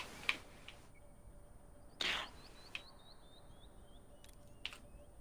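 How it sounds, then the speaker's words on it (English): Birds chirp inside the Overwatch video game, a faint series of short, high, rising tweets repeating at a steady pace over quiet background hum, with a few sharp clicks and pops scattered between them. "What do I hear the birds chirping?"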